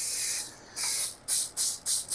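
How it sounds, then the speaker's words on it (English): Short bursts of light oil spray hiss onto chicken pieces sitting in an air fryer basket: one longer spray followed by four quick, evenly spaced puffs, close and clear. "Okay, and then it says to give it a light spray."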